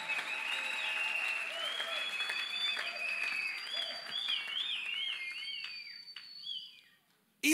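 A church congregation applauds steadily, with bright cheering voices and whoops riding over the dense clapping before it fades out near the end.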